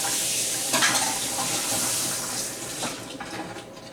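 An eggplant rinsed under a running kitchen tap, a steady loud hiss of flowing water with faint splashing changes as the vegetable is turned under the stream.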